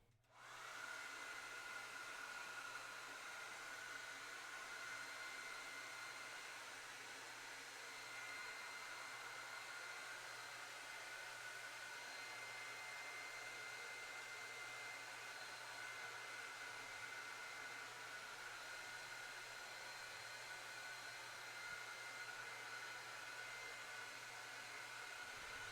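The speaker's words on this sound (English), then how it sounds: "So I'm going to take my blow dryer real quick and hit it." A hair dryer blows steadily from start to finish, a constant whooshing hum with no pauses.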